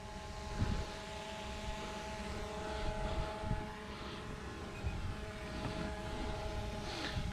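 Drone hovering and flying above a boat during ocean shark fishing off Ocean City, Maryland, a steady high multi-tone whine that holds evenly over wind and water noise, moderately loud.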